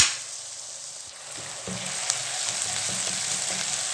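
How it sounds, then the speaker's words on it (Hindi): Ginger paste and chopped green chillies fry in a pan for white matar pulao, a continuous close sizzle with light clicks and stirring taps building up midway; no voices. "अब इसमें ऐड कर देते हैं यहाँ पे अदरक का पेस्ट, और इसे भी यहाँ पर अच्छे से फ्राई कर लेते हैं"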